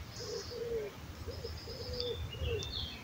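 A large pigeon at a tent on a motorcycle road trip along the Route des Grandes Alpes coos softly several times in a low rolling rhythm, close by, with faint bird chirps behind it.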